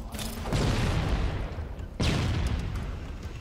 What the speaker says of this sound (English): See you lobbing grenades like a madman.